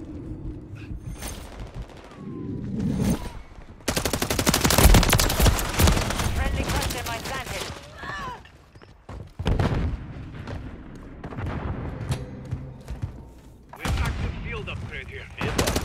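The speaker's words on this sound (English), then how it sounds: "Taking effective fire!" Gunfire from the Call of Duty: Modern Warfare 3 video game, with loud bursts of automatic fire in stretches and sharp individual shots between quieter moments, while voices talk over the combat.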